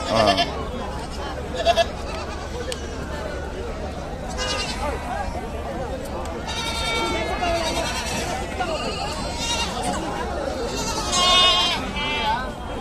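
Goats and rams bleat repeatedly at a busy goat market in Gudur, with several overlapping calls near and far over a steady crowd murmur and people talking.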